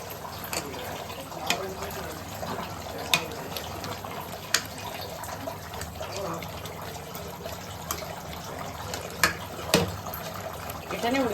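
Cooking utensils are washed under a running tap in a home kitchen while mutton boti curry cooks, giving a steady wash of water with sharp, intermittent clinks and knocks of metal.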